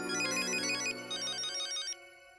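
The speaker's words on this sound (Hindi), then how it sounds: "भिड़े मास्टर का ही फोन है।" A melodic electronic phone ringtone in the Hindi sitcom Taarak Mehta Ka Ooltah Chashmah plays twice in quick succession, clear and fairly close, then cuts off abruptly.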